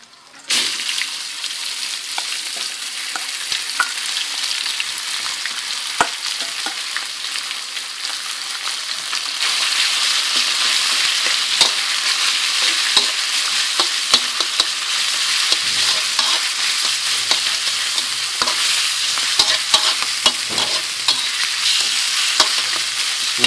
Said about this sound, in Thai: เอาลงไปผัดครับ